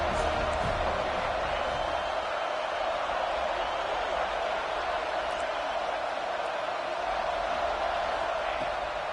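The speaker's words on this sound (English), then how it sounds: "Big 3rd down as the crowd gets behind this defense." A football stadium crowd roars steadily on a third down in a Kansas vs FSU game, a broad sustained wash of cheering heard at a distance with no clear breaks.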